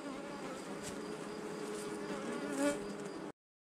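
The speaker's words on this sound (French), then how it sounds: "on peut voir que les abeilles viennent de suite voir la reine" A soft, steady buzz of many honeybees gathering around a newly introduced mated queen in an artificial swarm hums continuously at low volume, with a few louder passes close by before it cuts off.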